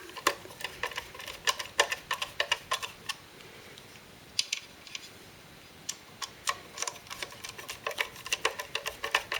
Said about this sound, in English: Now while I'm screwing these in